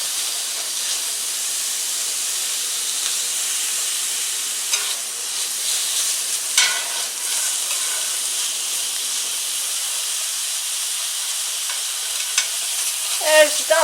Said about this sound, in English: fry the pork on high heat until done, about 2 minutes